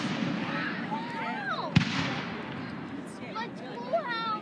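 Fireworks going off outdoors, a sharp loud bang standing out from a continuous crackle and whistling, with excited voices talking over it throughout.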